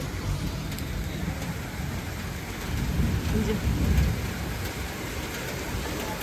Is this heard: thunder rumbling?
yes